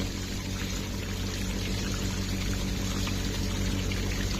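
A small waterfall on an RC crawler course gives off a constant, splashing pour of water that stays even and close for the whole stretch, with no talk.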